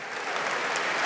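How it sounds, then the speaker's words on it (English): Keynote audience at a large tech conference opening session applauding steadily, a dense, loud wash of many hands clapping throughout without a break. "can you just, with a round of applause, who uses ChatGPT?"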